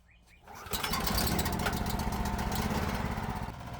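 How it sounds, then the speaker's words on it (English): A small gasoline engine, a 420cc Predator on a dual-engine golf cart, starts up and keeps running with a steady, buzzing drone, close by and loud. "let's start the engine and confirm everything actually works."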